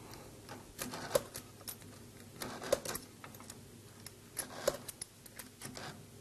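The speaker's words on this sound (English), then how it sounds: "using the chuck key, you tighten the chuck" Sharp clicking and tapping as a chuck key tightens a lathe chuck on a workpiece, several separate metallic ticks spread irregularly over a quiet, faintly humming background.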